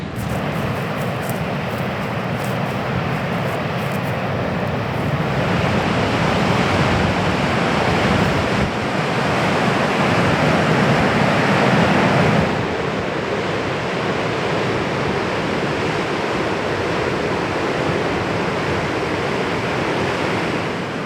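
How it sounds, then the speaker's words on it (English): Steady broadband roar of surf washing onto a shore, continuous and fairly loud, with wind noise mixed in and no voices. "I can see the ocean is right here"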